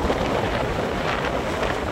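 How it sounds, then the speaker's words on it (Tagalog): Strong typhoon wind on a beach roars steadily across the microphone, a loud, constant broadband rush with gusty buffeting and no voices. "malakas ang hangin, sumasaboy sa atin yung buhangin"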